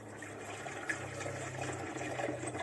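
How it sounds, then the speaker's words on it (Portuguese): Water runs steadily from a tap over dirty dishes in a sink, a continuous close splashing flow with a low hollow rumble underneath. "Vou aproveitar pra jogar água aqui na louça."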